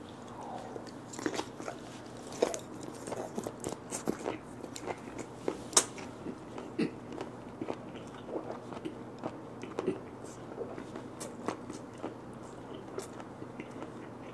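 Close, crisp chewing and biting of a bigfin reef squid, served as blanched sashimi, with steady wet crunches and squishes repeating through the meal and no talk.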